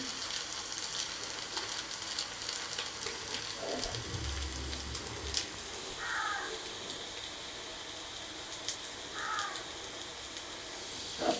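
Chicken nuggets fry in oil over medium heat, giving a steady, fairly quiet sizzle that runs the whole time, with a few brief clinks and a low bump partway through.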